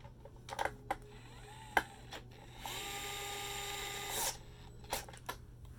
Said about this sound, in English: this little screwdriver doesn't have too much torque to it